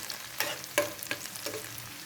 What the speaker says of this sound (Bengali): এখন এই পর্যায়ে দিয়ে দিব আমি 6-7টা কাঁচামরিচ চিরা। এটাকে একটু ভাজবো।